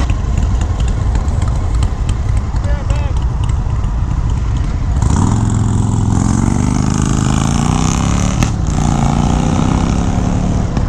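A 2019 Indian FTR 1200 S motorcycle engine on a ride, rumbling continuously under wind noise, with a rising rev sweep about halfway through; a rider talks over it.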